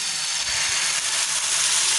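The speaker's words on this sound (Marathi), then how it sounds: "आणि जे मिक्सचर आहे ते परत तव्यावरती घालायचं आहे।" Potato dhirde batter poured onto a hot oiled griddle, a steady loud hiss of sizzling oil that runs unbroken and close up.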